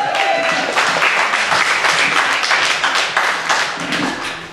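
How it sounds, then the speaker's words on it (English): An audience at a poetry open-mic event claps and cheers loudly and steadily for several seconds, the dense applause tapering slightly toward the end. "Come on, clap your hands, make some noise."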